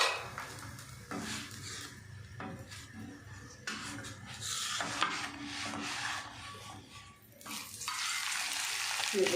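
Mooli paratha frying in ghee on an ordinary, non-nonstick pan, giving a steady close sizzle broken by repeated scraping and rubbing strokes of a spatula, with no voices.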